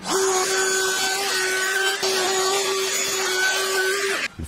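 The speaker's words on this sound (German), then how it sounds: "Jetzt werde ich das zweite genauso fräsen." Router milling a rebate into a roughly 4 mm panel, a loud, steady high-pitched motor whine with cutting noise throughout, stopping abruptly at the end.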